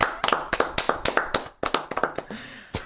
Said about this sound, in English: Let's clap that one out